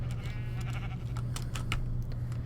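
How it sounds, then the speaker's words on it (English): Sheep in a survival video game give a wavering bleat, with clicking keyboard taps and a steady low hum underneath. "There's a lot of sheep."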